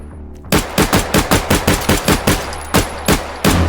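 Automatic gunfire in the VR shooter H3VR, a close, loud rapid burst of about a dozen evenly spaced shots followed by a few slower single rounds.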